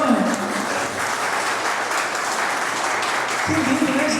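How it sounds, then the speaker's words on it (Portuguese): A church congregation applauds for the Lord at a wedding testimony, with steady, sustained clapping throughout, and a voice speaks briefly at the start and end. "Vamos aplaudir ao Senhor."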